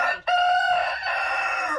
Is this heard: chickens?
yes